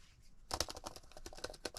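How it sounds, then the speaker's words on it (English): Quick, clicky typing on the keyboard of a Lenovo IdeaPad Duet 5 Chromebook, a close, dense run of light keystrokes that starts after a quiet moment and continues steadily. "Yep, pretty clicky."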